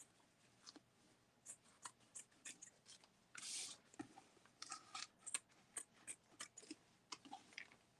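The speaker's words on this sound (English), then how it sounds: "And then I'm going to cut these corners like this." Scissors snip through the corners of packaging cardboard in a series of short, crisp, close cuts with small pauses and rustling between them, quiet and alone.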